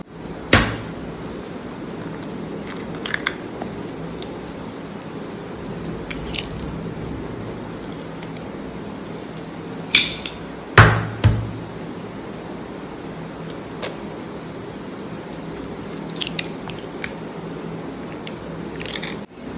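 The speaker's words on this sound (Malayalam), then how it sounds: "ഇനി നമുക്ക് ഇതിലേക്ക് 2 മുട്ട പൊട്ടിച്ച് ഒഴിക്കാം." Two eggs are cracked into powdered brown sugar for a fudgy chocolate brownie batter. A few sharp, isolated cracking taps stand out against a quiet kitchen background, with a small cluster of clicks near the middle.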